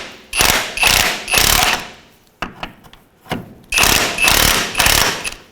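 A 19mm socket loosens a nut on the front lower control arm of a 2007-2013 Mitsubishi Outlander: loud, close rattling bursts, three in a row, a short pause with a few knocks, then three more.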